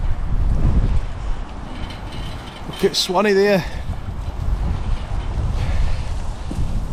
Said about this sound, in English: It's too windy for this. Bloody hell. Far too windy.